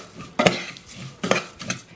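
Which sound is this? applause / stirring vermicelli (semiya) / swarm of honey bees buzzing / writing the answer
stirring vermicelli (semiya)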